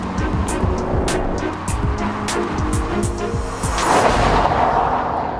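Mid-engined Lotus Evora with its 3.5-litre Toyota-built V6 mounted between the rear wheels, running loud and close with busy engine roar, tire noise and sharp high bursts, the note swelling toward the end.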